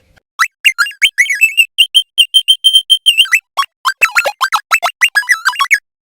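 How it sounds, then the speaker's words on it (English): A TC-11 synth app on an iPad plays rapid, bright chirping notes whose pitch shifts and wobbles as the iPad is shaken; short separate notes run in quick bursts with tiny gaps between them. "by shaking the iPad in the X position and playing at the same time, you will hear the notes change"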